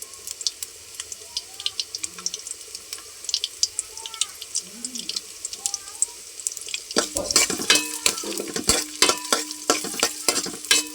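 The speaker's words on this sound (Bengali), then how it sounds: "ডাল চাল একসাথে ধুয়ে রাখছি" Lentils and rice being washed together in water, a soft swishing and splashing that starts quietly and turns busier and louder with rapid clattering stirs, over a background of faint tones and occasional voices.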